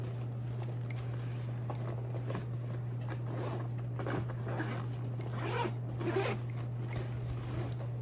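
A zipper is pulled open along the middle compartment of a pink WOLFPak 25L backpack, a steady close ripping glide with small rustles over several seconds.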